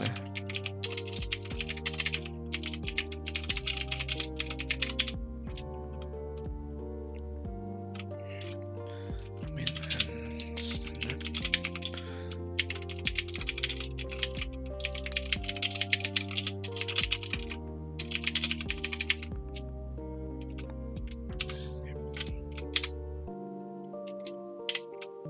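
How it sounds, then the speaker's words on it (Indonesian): Typing on a computer keyboard, rapid clustered key clicks in bursts with brief pauses, close and crisp over continuous tonal background music for about twenty-five seconds. "Kita ketik dulu judulnya."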